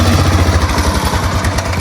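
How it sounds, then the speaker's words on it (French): A modified ride-on lawn mower tractor engine revs and accelerates with a steady, loud, rough rumble and clatter throughout, close by, with no talk. "La mémère elle conduit le tracteur. Accélère."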